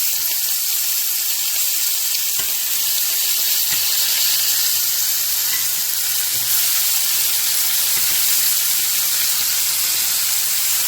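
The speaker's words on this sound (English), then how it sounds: "Go ahead and start searing that." Meat searing in a hot pan while dinner is cooked for a family, a steady broadband sizzle and hiss that holds constant and fairly loud throughout, with a few faint clatters of the pan underneath.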